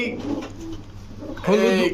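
Pigeons, including Bombay, pankhi, army and chila breeds, coo in low, throaty bursts, with a louder coo near the end; a voice murmurs faintly in the background.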